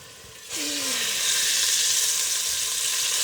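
Oil poured into a hot pan for dal gravy bursts into a loud hiss that starts abruptly and then holds as a steady, close sizzle.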